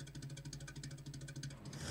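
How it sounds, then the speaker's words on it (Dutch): A cartoon rocket engine sputters in quick, even pulses, a low chugging putter that rises into a rushing whoosh at the end. "De motor van de raket staat al te pruttelen."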